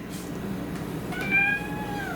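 A pet cat named Bella gives a single clear, rising-then-falling meow partway through, close by in a quiet room.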